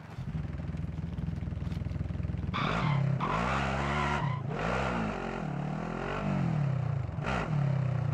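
Car tyres skid and an engine revs loudly in the Call of Duty battle royale mode Plunder, the drive running continuously with several surging, sliding swerves and a brief spoken remark over it.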